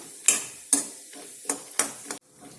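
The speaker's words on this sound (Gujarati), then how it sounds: "તો 2 થી 3 મિનિટ આપણે આ રીતે ધીમા ગેસ પર તેને સાતળીશું." Cashews and almonds sautéing in ghee on a low flame, with a soft steady sizzle broken by several sharp scraping stirs of a spoon against the pan, close and fairly quiet.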